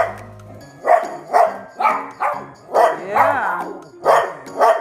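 A dog barks at a passing UPS truck indoors, a run of about eight sharp, evenly spaced barks at moderate distance, with a person briefly speaking.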